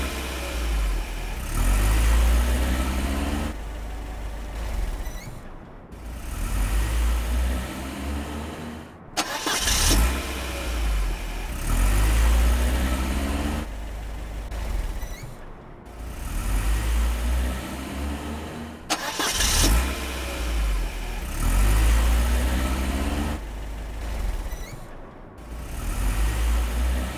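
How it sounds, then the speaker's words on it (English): Car engine idling and restarting in the driving game In a Jam, a steady low engine drone broken by brief cut-offs and restarts roughly every five to seven seconds, loud and alone with no talk. "switch off the engine."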